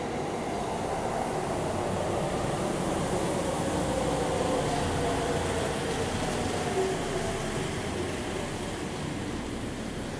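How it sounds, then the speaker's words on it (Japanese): A Sendai subway Namboku Line extra train runs with a continuous, loud rumble and rushing noise through a tunnel section, unbroken for the whole stretch, with no talking. "これは臨時列車だな。"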